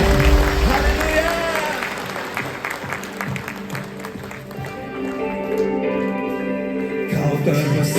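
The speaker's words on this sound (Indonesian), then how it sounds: "kita berikan tepuk tangan yang terbaik bagi Yesus Kristus Tuhan" Congregation applauding during an Ascension Day morning church service, steady sustained clapping with crowd voices and sustained music tones underneath.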